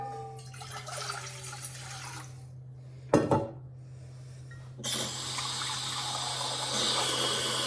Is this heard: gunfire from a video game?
no